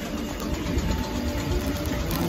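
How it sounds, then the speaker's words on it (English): A Merseyrail train's engine gives a steady, moderate drone with a low rumble that holds even throughout. "Trains are noisy. Need new trains, Merseyrail."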